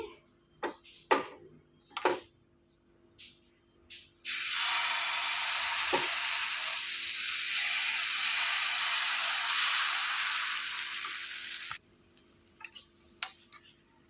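Wheat flour dosa batter spread onto a hot pan, giving a sudden loud hiss and sizzle that holds steady for several seconds and then cuts off, with scattered clinks and scraping of utensils before and after.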